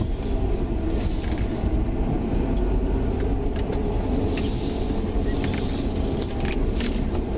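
A V6 engine in an Oldsmobile Cutlass Cruiser hums with a steady low rumble throughout a night drive, road and wind noise mixed in, no voices.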